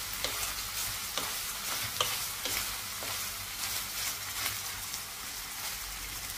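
Meatballs fry in the oil left after their broth has cooked down, a steady soft sizzle and crackle with small pops running throughout, close and even in level.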